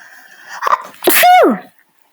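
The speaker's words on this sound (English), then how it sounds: "hold on, I'm going to sneeze" A loud, close sneeze with a sharp intake of breath first, then a trailing voiced tail that sweeps downward.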